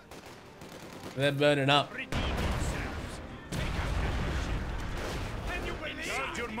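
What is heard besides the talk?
artillery barrage explosions in video game Company of Heroes 2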